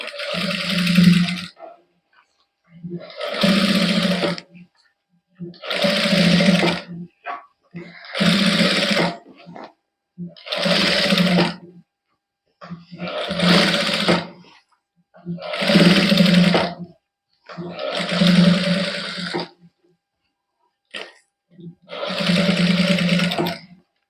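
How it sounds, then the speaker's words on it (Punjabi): A sewing machine stitches lace onto a plain cotton suit in regular bursts, each a few seconds of steady whirring hum, with brief quiet gaps between runs. "ਇਸ ਤਰ੍ਹਾਂ ਸਾਰਿਆਂ ਦੇ ਉੱਪਰ ਸਲਾਈ ਲਾ ਦਾਂਗੇ"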